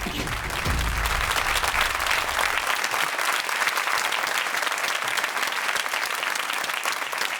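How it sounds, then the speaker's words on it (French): Steady applause in a studio setting, a dense continuous clapping that holds evenly from start to finish, with a low rumble at the very start and no talk over it. "Vous vous applaudissez toute seule."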